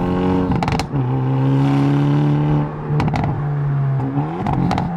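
A Hyundai Elantra N's performance exhaust revs close by, a loud drone that rises and dips, broken by sharp crackles and pops between the throttle blips.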